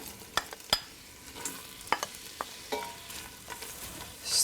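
Onions cook in melted butter in a casserole pot, a gentle continuous sizzle punctuated by irregular clicks and taps of a spoon stirring against the pot, close and moderately quiet with no talk.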